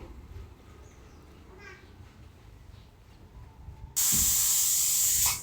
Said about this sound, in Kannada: ಈಗ ಕುಕ್ಕರ್ನ ಕ್ಲೋಸ್ ಮಾಡಿ 2 ವಿಷಲಿಗೆ ಬಿಡ್ತಾಯಿದ್ದೀನಿ.